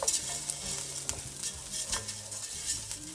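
Arborio rice goes into a hot pan for risotto, sizzling and hissing as a spoon stirs and scrapes through it in quick uneven strokes, close and moderately loud.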